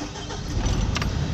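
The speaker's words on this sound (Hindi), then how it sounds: "अब गाड़ी को करते हैं ये स्टार्ट" An Eicher truck's diesel engine cranks and catches, a short loud start close by with a rising rumble and no talk over it.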